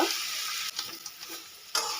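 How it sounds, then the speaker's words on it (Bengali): Green jackfruit pieces frying in mustard oil, a loud, steady close-up sizzle broken by a couple of brief stirring scrapes, with no voices. "একই রকমভাবে আমি এঁচড়গুলোকে ভেজে নেবো"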